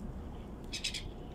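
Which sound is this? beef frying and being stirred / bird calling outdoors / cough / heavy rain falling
bird calling outdoors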